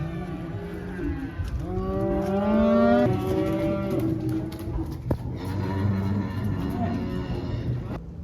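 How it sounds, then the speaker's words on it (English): Cattle at a sale barn moo loudly and repeatedly in long, drawn-out calls, with a few overlapping voices and some thumps and barn clatter in the background. "So we sorted off those cattle."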